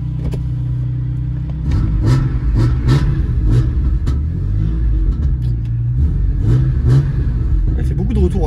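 BMW M3 with a cold engine, revving loudly up close in repeated bursts over a deep rumbling idle, with someone talking in between.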